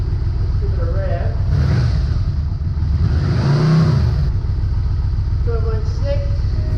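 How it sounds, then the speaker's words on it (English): A Yamaha Vmax motorcycle engine with a battery going flat runs at a loud, close steady idle, rising in one brief rev mid-clip before settling back, with speech layered over it. "Let's give it a rev."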